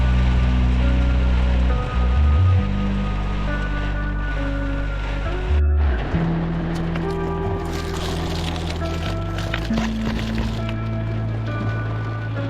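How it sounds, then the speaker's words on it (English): Heavy rain drums steadily on a car parked at night in a parking lot in Alabama. The roar is loud and continuous from start to end, with a low hum underneath. "it is still raining so hard"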